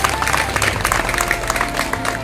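An audience of mothers at a school haldi-kunku event applauding, a dense, continuous wash of clapping from a crowd with some murmur beneath it.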